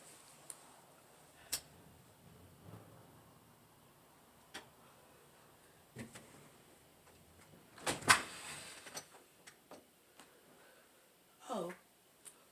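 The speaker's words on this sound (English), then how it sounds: "let me close my door." A room door being shut indoors, one solid thump midway among scattered small knocks and clicks, with quiet talk nearby.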